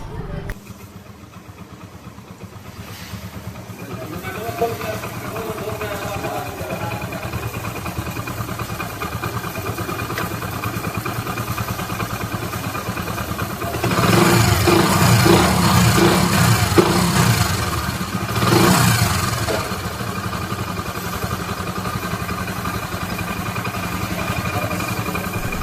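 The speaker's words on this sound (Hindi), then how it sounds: "किया है और इंजन का कुछ ऐसा साउंड है।" A Hero Splendor Plus motorcycle engine idles steadily after a full repair, a continuous mid-pitched running hum with light clatter that swells louder for a few seconds midway, no one talking over it.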